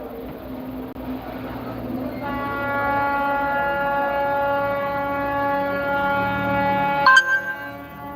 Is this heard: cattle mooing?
no